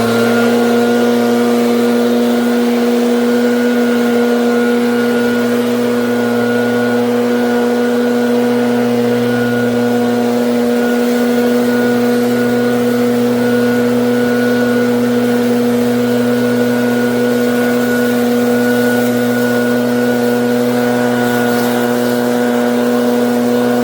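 Two ProRun PBB2884 gas backpack leaf blowers worn together run at a steady, loud, continuous droning whine that holds an even pitch throughout, with no voices.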